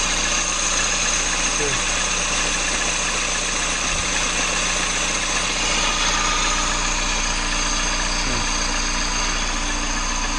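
A Peugeot 207 engine fitted with a new belt and rollers idles quietly and evenly at close range, a smooth steady hum with faint ticks, while someone talks over it.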